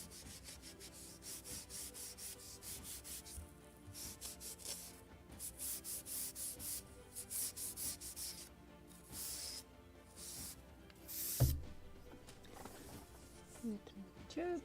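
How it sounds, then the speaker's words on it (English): A pad of Scotch Brite is rubbed over the wooden planking of a model gunboat hull, making soft, close, repeated scrubbing strokes in short bursts. A sharper knock lands near the end. "And Scotch Brite for polishing."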